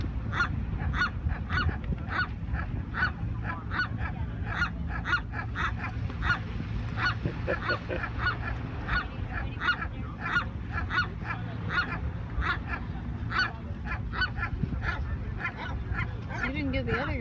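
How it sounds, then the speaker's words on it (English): Seagulls calling at Catalina, a steady stream of repeated harsh honking cries close by, continuing throughout over a busy background. "There's a seagull making that kind of noise before."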